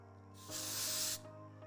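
A can of light-hold hair styling spray releases one steady, close hiss lasting under a second, standing alone over a quiet background hum.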